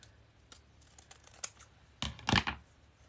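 Scissors cut through the packaging of a gingerbread wreath kit, with a few light crisp snips followed by a louder cluster of close cutting and crinkling sounds.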